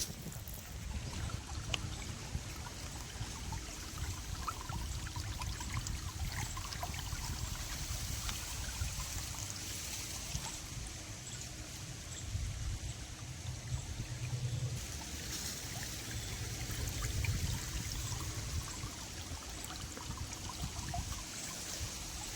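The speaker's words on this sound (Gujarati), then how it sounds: "એ પાણી આ ચારો પહેલાં પી જાય, પછી પાછો ફરીથી શરૂઆત કરવાની છે પહેલાં ચારાથી." Irrigation water runs steadily into a farm field, a continuous low rushing and trickling flow that stays even throughout, faint and unaccompanied by voices.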